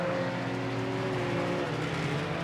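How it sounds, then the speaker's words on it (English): A bread truck races at Rockford Speedway in a gauntlet race, its engine a steady distant drone with a faint pitch slide, heard alone at moderate level. "He's going pretty fast in that bread truck."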